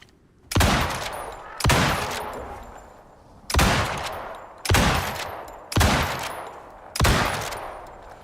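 Gunfire in the survival video game Icarus, played on hard mode: six loud, sharp shots spaced roughly a second apart, each with a long decaying tail, with no talking over them.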